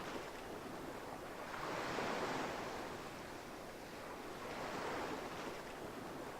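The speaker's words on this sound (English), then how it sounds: "Can't you hear the waves?" Ocean waves at a beach in the video game Cutie Mark Crusader Warriors swell and wash in two slow surges over a constant windy hiss, with no voices.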